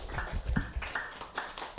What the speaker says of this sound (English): I'm going to have to clap.